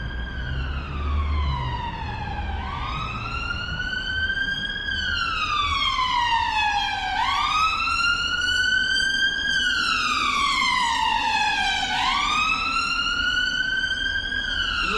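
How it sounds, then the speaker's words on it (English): A loud electronic siren wails continuously, sweeping up and down in long repeating cycles with no voices present. "Oh, the siren, isn't it?"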